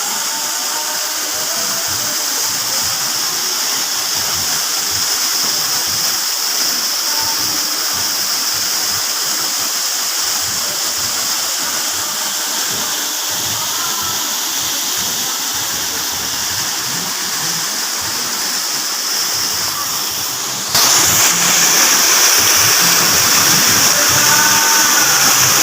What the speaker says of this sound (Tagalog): We are here in Twin Falls in Laguna, Kalayaan, Laguna.